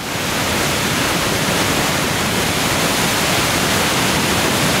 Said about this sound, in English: I'm enjoying the waterfall